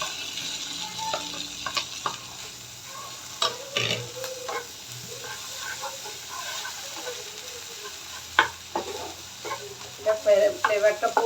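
Potol and egg bhorta is stirred and fried in a pan, with a soft sizzle under repeated scraping and clinking strokes of a spatula that grow busier toward the end.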